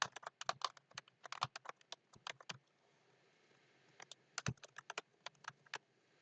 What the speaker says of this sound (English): Let's type in our number over here.